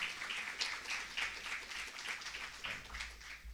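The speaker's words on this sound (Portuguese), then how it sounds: "Uma salva de palmas para a nossa presidente." Applause from an audience at an engineering event, greeting their president after an introduction: steady, moderately distant clapping with rhythmic bursts that continues throughout.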